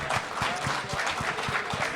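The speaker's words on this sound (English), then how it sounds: "Everyone, give them one more round of applause" An audience at a gamefest painting competition claps for the painters, a brief burst of dense, steady applause from a crowd indoors.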